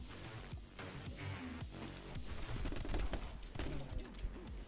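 Video game gunfire rattles in dense rapid bursts at steady loudness, with busy game effects layered underneath throughout.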